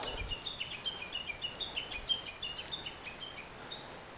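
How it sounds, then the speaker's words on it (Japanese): Small birds chirp and twitter repeatedly in quick, high notes over a quiet outdoor background, moderately near. "鳥のさえずり"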